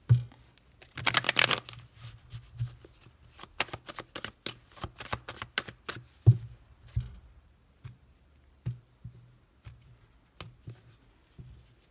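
Light Seers and Rider-Waite tarot cards are shuffled close to the microphone. A rapid riffling burst comes first, then a series of separate soft card slaps and shuffles. No one talks.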